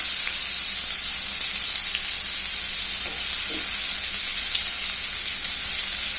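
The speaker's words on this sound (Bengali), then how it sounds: "এক পিঠ ভাজার জন্য 1 মিনিট সময় নেব। এরপর উল্টে দিয়ে অপর পিঠও ভালোভাবে ভেজে তুলব।" Pieces of hilsa fish tail frying in a pan, giving a loud, steady, dense sizzle that runs unbroken and alone from start to finish, with no voices over it.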